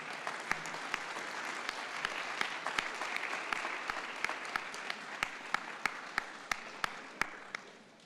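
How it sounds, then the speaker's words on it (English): Graduating students at a University of Arizona optical sciences pre-commencement celebration give their families and supporters a steady round of applause, a broad wash of clapping with a few sharp, close individual claps standing out before it tapers off. "let the students give all of you a round of applause"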